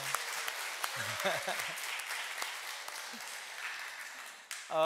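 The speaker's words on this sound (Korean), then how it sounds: "우리 성가들을 위해서 우리 다시 한 번만 박수 한번 할까요?" A church congregation at a Korean Methodist Sunday morning service applauds the choir. The clapping is steady and moderately loud, with voices talking briefly over it, and a sharp noise comes near the end.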